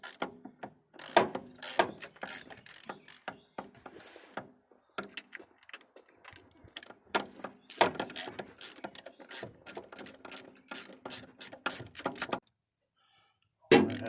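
A deep-well socket on a ratchet wrench loosens a bolt on a big-block Pontiac engine in a G-body car. Rapid ratcheting clicks come in repeated bursts with short pauses between them, close and clear.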